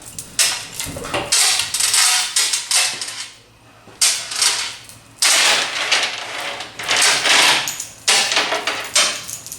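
Metal tools clank and ratchet while parts are unbolted during a big-block Chevy engine swap, with repeated clattering bursts and short pauses, close and fairly loud throughout.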